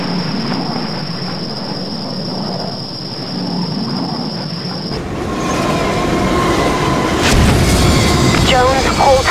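A train in the video game Project IGI rumbles along, at first under a steady high electronic tone, then louder clattering wheels and metallic squeals take over in the second half, with game voices over it.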